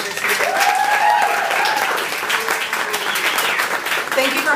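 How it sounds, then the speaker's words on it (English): An audience applauds steadily and loudly at an evening comedy-style show, a dense wash of clapping with some voices and talk mixed in underneath. "I think they deserve a round of applause for all the work they've done so far this year."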